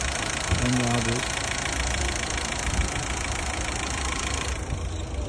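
A 2020 car's engine idles at a Samarkand used car market, a steady close mechanical running drone throughout, with brief voices near the start.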